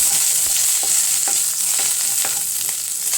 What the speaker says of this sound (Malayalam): ഞാൻ ഈ കറിവേപ്പിലയും പിന്നെ ഉണക്കമുളക് കൂടി ഇട്ട് കൊടുക്കാണ്.